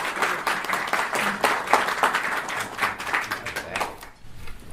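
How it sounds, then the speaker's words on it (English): A crowd claps in sustained applause for several seconds at the Atlanta Airport Rotary Police Officer of the Year 2017 awards ceremony, dense and steady, before it tapers off near the end. "Again, one big round of applause."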